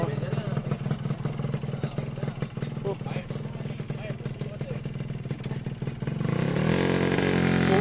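A motorcycle engine idles with a rapid pulsing rattle, then the throttle opens and the revs climb into a louder, steady roar; a voice talks faintly underneath.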